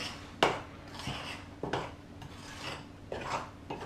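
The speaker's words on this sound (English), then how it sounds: "So we're cutting through the mixture, folding it in, trying to keep as much air in." Spoon folding berry muffin batter in a bowl, soft scraping and rasping strokes with a few sharper knocks against the bowl, repeated at an unhurried pace, close and fairly quiet.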